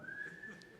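An audience member at a Parkway Drive Q&A in Berlin whistles into the microphone, giving one steady held tone under faint room noise.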